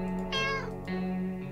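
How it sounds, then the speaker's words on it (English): A cat meows twice in the 60 Seconds survival video game, two clear, close, fairly loud harmonic cries in quick succession with no talk over them. "The cat is growling in our general direction of us and our supplies."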